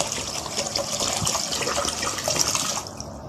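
Isopropyl alcohol being poured into a homemade water-based disinfectant mixture, a steady close splashing trickle of liquid that runs continuously and thins out near the end.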